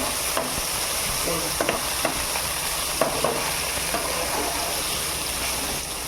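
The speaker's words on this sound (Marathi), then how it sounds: "हे पनीर याच्यात आपल्याला फ्राय करायची आहे गॅस जरा स्लो ठेवायची" Paneer frying in hot oil over low gas, with a steady close sizzle throughout and scattered light scrapes and taps as the pieces are stirred in the pan.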